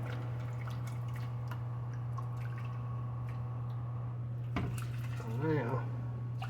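Water from a dispenser runs into a corn can to rinse it out, over a steady low kitchen hum, with a brief sloshing, gurgling splash near the end.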